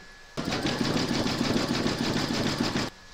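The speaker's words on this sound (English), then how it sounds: "load your thread colour for the satin stitch around the rabbit's head into your machine and then you're going to stitch round number 10" Embroidery sewing machine running a satin stitch outline, a steady fast mechanical whirr with rapid needle clatter, close and constant for about two and a half seconds before stopping abruptly.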